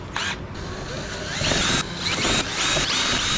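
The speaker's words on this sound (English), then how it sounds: "Let's start pulling some screws here." Screws are driven out of a Keurig coffee maker with a power driver, close buzzing whirs in bursts with short pauses between them.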